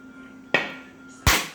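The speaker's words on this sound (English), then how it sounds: "First, you gotta break the coconut with a hammer." A hammer strikes a coconut twice, two sharp, loud, close thwacks about three-quarters of a second apart, with quiet room tone between.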